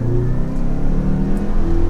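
2023 Mazda CX-5 Signature Turbo AWD with a turbocharged four-cylinder accelerating hard in sport mode, a steady strained engine drone with rising harmonic tones heard from inside the cabin.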